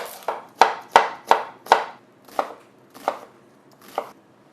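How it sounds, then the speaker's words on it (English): A knife chops onions on a board for butter chicken: about nine crisp, close strikes, the first four quick and evenly spaced, the rest slower and a little softer, with no talking. "So I want to start off by cutting 4 onions."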